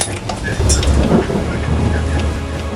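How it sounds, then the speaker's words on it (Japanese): Thunder from lightning over the sea off Oma during tuna fishing, a deep rolling rumble mixed with a steady hiss like rain, loud and continuous. "稲妻が走り静寂の海を切り裂いた。"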